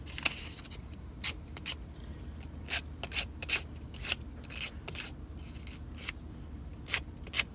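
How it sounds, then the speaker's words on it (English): Short, scratchy strokes of sandpaper lightly rubbing rods by hand, irregular bursts spaced a fraction of a second apart over a low hum. "Just going to give them a little bit of a light sanding."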